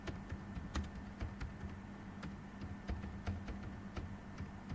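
Rapid, uneven keystrokes on a computer keyboard as code is typed, a steady patter of light clicks heard fairly close with no voice over them.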